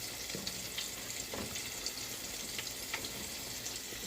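Eggs frying in a pan: a constant dense crackling sizzle, close and steady, with occasional light clicks of a utensil.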